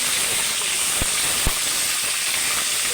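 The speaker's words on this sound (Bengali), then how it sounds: "এখন আমরা রসটি উল্টিয়ে দেবো আমরা এক পিঠ ভাজা শেষ অপর পিঠ ভাজার জন্য" Chicken roast pieces sizzle steadily in a frying pan after being flipped, a loud continuous hiss with two brief sharp clicks partway through.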